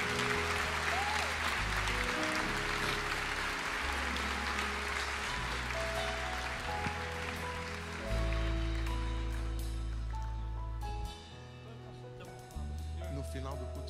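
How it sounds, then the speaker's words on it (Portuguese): Church congregation applauding during a worship service, a dense steady clapping wash that holds loud throughout with a brief dip near the end, mixed with organ or keyboard tones beneath. "Aplauda o Senhor, por favor,"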